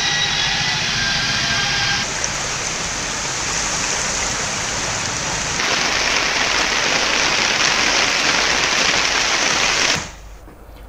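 Heavy rain pours in a dense, unbroken hiss, loud and close, during destructive monsoon downpours in Chhattisgarh, then cuts off abruptly near the end.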